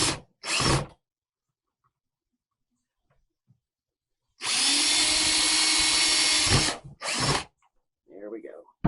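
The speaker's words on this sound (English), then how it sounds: "Then out to the shop for a drill and bits." A power drill bores holes in a plastic bucket: a loud, close, steady whine for about two and a half seconds, framed by short bursts of drilling and clattering handling noises, with faint voices near the end.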